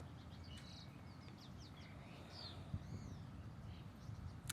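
Small birds chirp in short, scattered calls over a steady low rumble of ocean surf on a beach, the whole scene quiet and distant.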